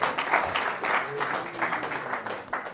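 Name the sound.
audience of real estate agents applauding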